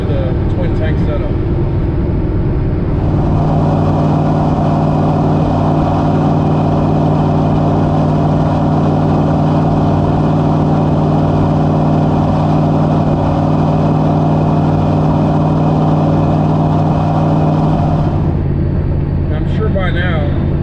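Diesel engine of a twin-tank dual-fuel truck idling steadily at operating temperature, a constant low hum and drone close by that holds for about fifteen seconds before cutting out, with faint voices around it.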